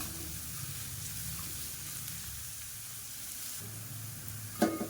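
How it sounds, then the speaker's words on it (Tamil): Onions and crushed garlic sautéing in a pan for dry fish curry, an even close sizzle with soft stirring underneath and a short clatter of a utensil near the end, no speech. "இந்த வெங்காயம் வந்து ரொம்ப வதங்க வேண்டாம் ஒரு பாதி அளவு வதங்கினா போதும்"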